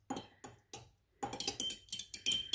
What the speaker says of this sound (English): I'm just kind of stirring it now to make sure it all gets